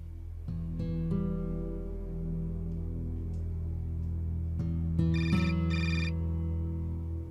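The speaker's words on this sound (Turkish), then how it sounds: "telefonun çalıyor" A telephone rings in a Turkish TV drama scene, a steady electronic ringtone melody playing at moderate level over a low background hum, with no talk over it.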